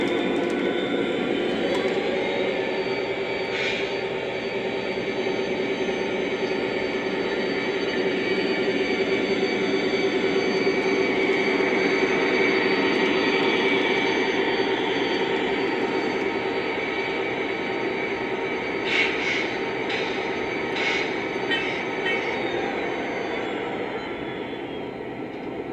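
Continuous whirring drone of a Lionel model train running nearby, steady in pitch and loudness, with a few light clicks toward the end.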